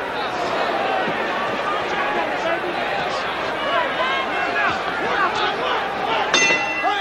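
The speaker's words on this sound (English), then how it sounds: "There's the bell." A boxing bell rings to end the round near the close of a Jean-Yves Thériault fight, a short metallic clang heard under busy ringside commentary and crowd noise.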